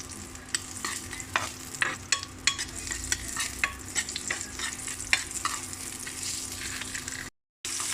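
Garlic sautéing in a pan for ginataang alimasag, with a steady close sizzle broken by frequent scraping and stirring clicks from a utensil, then a brief dropout near the end.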